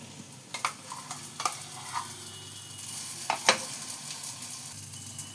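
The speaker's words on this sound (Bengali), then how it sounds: "দেখো এবার এটাকে আমি একটু লাল লাল করে ভাজছি।" Spiny gourd and shrimp paste frying in a pan, with a soft steady sizzle broken by sharp clicks and scrapes of stirring, close and alone.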